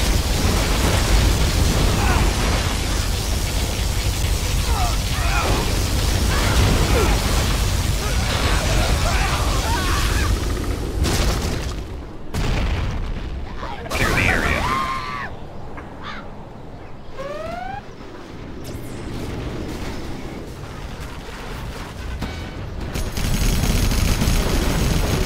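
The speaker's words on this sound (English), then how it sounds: "Particle cannon activated." Particle cannon blast in the Command & Conquer Generals Zero Hour battle game, heavy booming bursts that give way to crackling, sweeping beam sounds, heard amid continuous battle noise with short bursts of game voice lines.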